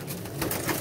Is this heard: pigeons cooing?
yes